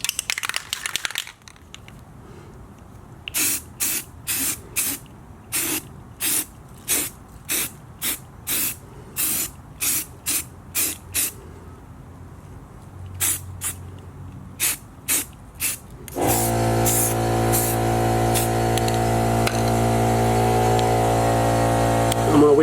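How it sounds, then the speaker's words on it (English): Filler primer sprays from an aerosol can onto a taped-up tire wheel in a run of short hissing bursts, then gives way to a louder, steady mechanical hum. "So I went ahead and taped the tire and we're gonna put some filler primer all over it."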